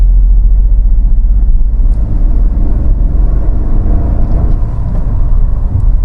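Kia Sonet iMT turbo driving under turbo boost, with a loud, steady low engine and road rumble and a continuous whir running throughout, no voices.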